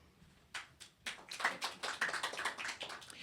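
Scattered hand claps building into steady applause from a press club audience, fairly close, with no talking over it.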